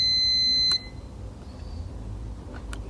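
Multimeter continuity beep while probing an iPad Air logic board during a short-circuit repair: one steady electronic tone that cuts off, followed by faint clicks against low background hum.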